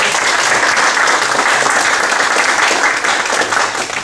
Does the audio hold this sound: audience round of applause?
yes